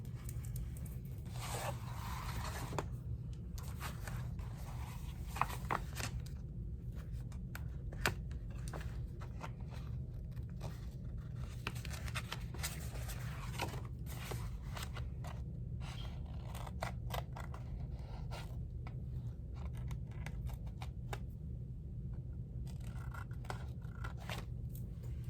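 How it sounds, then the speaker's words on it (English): Scissors snip and trim tape on an altered file folder, giving soft, scattered cutting and scraping sounds close by over a low, steady background hum, with no talk. "let me... just trim my tape here"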